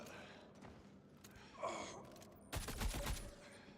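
Quiet gunfire in the video game Star Citizen: a short, dense burst of rapid shots comes near the end after a mostly hushed stretch, sounding faint overall.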